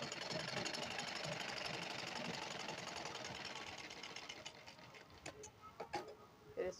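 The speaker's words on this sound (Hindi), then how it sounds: "अब इस पर सीधी सिलाई लगाएंगे एक बूट की।" A sewing machine runs a straight stitch along a two-inch fabric strip for a lined blouse, a fast continuous whirring chatter, faint and close, easing into a few uneven bursts near the end.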